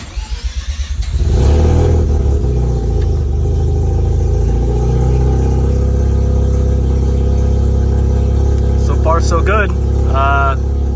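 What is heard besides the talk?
Mazda RX-7 rotary turbo engine starting and revving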